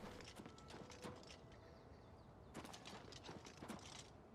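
Horse hooves clip-clop in The Elder Scrolls IV: Oblivion Remastered, two quick bursts of rhythmic hoofbeats separated by a short lull, fairly close and moderately loud over a faint background.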